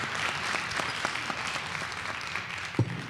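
Applause from the floor of a town meeting, a scattered burst of clapping across a room that carries on steadily and fairly loud, with a sharper knock near the end.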